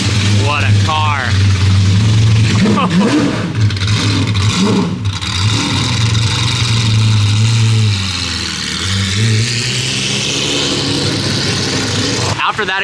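A straight-piped Jaguar XJR pulls away during a delivery, its loud raw engine revving hard and then fading as the car drives off, with people talking excitedly over it.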